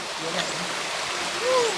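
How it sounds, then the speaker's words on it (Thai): Mae Kasa waterfall, a steady broadband rush of falling water heard close and continuous for the whole stretch, with faint voices briefly audible over it. "อนนี้เรามาถึงน้ำตกนะคะ น้ำตกแม่กษา"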